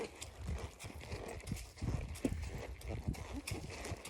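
Rhythmic clip-clop of horse hooves walking nearby, steady and moderately loud, with faint outdoor background.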